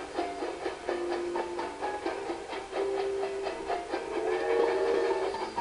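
Train form sounds from Kirby's Epic Yarn, the video game: tonal whistle-like game effects and music-like tones over a steady busy background, with repeated rhythmic hits, continuous and moderately loud with no talking.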